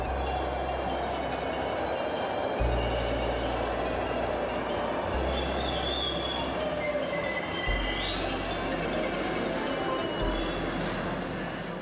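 A subway train on steel wheels rumbles along steel rails, with a steady roar and rhythmic clacks as the wheels pass over track joints every few seconds.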